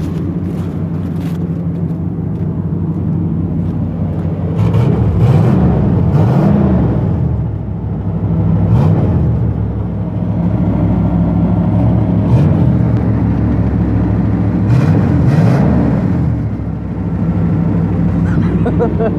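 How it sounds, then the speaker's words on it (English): A 1991 Chevy Silverado 2500 with a 350 V8 and stock exhaust idles after a cold start, a loud, steady, close rumble with a ticking exhaust leak and occasional slight revs. No one speaks. "It's got an exhaust leak."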